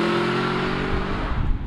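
Aston Martin V8 Vantage with a manual gearbox, its V8 engine revving out in a loud, close, continuous drone heard from the cabin that holds high before easing off at the end.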